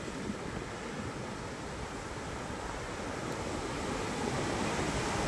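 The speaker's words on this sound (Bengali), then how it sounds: "এখানে কিন্তু সমুদ্রের ভালো ঢেউ আছে" Sea waves break and wash steadily onto the beach at Henry Island, a continuous loud rush of surf mixed with wind noise, with no voices.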